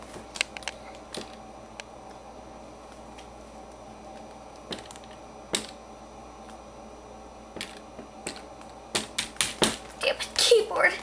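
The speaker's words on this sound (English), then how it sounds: "so now time to type in something" Keys on an oversized computer keyboard are struck with scattered single clicks at first, then a quicker, louder burst of clustered key presses near the end.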